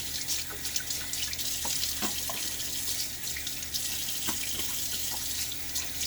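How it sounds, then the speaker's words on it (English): Tap water running at a sink, a steady close splashing and trickling while water is splashed on the face before a shave, no talking. "Water on my face before the shave starts."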